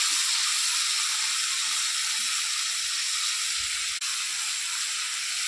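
Tomato paste goes into hot oil seasoned with five-spice, giving a loud, steady hiss of sizzling steam up close, broken by a single sharp click near the middle, with no talking.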